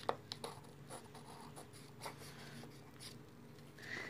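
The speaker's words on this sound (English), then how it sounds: "I'll try to write my name with my left hand" A pencil writes a name on paper, scratching in short irregular strokes with soft scraping bursts, close and fairly quiet, with no talking.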